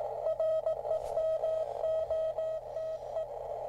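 Steady Morse CW sidetone from an Elecraft K2 transceiver being set up for SSB and noise blanker use, a clear mid-pitched tone keyed in short dashes and dots over a constant background hiss of band noise, no talking.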